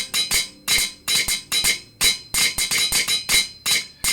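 Repeated hammer-crafting clinks from the game Minecraft with the GregTech New Horizons modpack, a broken hammer in use: about a dozen sharp, bright metallic strikes in an uneven quick rhythm, loud and close with no talk.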